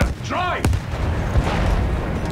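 Battlefield 1 game audio as a heavy explosion goes off, a sharp booming blast and crackle among ongoing combat rumble, with someone talking over the game sounds.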